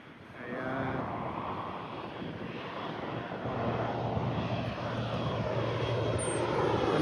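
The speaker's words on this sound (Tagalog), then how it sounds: "At may palanding na rin na aeroplano." An airplane comes in to land at Winnipeg Richardson International Airport, its steady engine roar building and growing louder as it nears, with wind buffeting the microphone.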